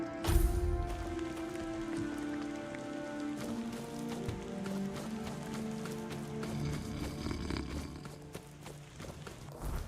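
Steady rain in the dark fantasy RPG Tainted Grail: The Fall of Avalon, a continuous patter on surfaces with footsteps or hoof clops moving through it, moderately quiet beneath sustained musical tones.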